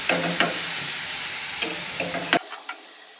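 Grated carrots sautéed in a spoonful of ghee in a pan for carrot halwa, with soft sizzling and a few scraping stirs of a spoon against the pan, close and quiet with no talk.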